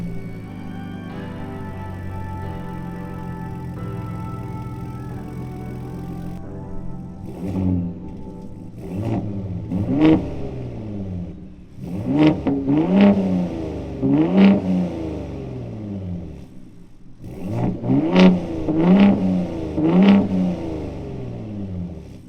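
A 2023 Ford Raptor with a 3.5-liter V6 idles steadily, then is revved in a series of loud, sharp blips that climb and fall, with a few clustered pairs of revs near the end.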